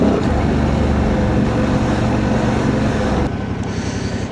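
A Honda Transalp 750 motorcycle with a remapped ECU rides along with a loud, steady engine drone and heavy wind buffeting throughout, and the noise drops slightly near the end.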